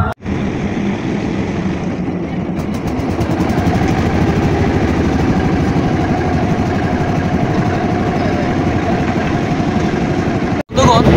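A hired fishing trawler's engine runs near Char Kukri-Mukri, giving a loud, continuous droning chug with water wash, steady throughout apart from a brief dropout near the end.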